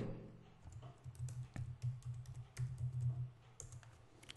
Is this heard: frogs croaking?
no